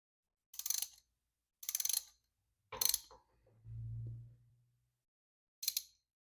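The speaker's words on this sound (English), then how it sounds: "we'll clamp that down with our 10 mil bolt here" Ratcheting and clicking of a wrench tightening a 10 mm bolt onto the clutch of a Kawasaki Vulcan 750 motorcycle: three short bursts, a brief low whir, then one more burst, close and isolated.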